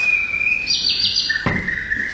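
A nightingale sings close by in a short burst of high clear whistled notes, a sustained tone followed by a rapid warbling trill and a lower held note, heard alone without talk.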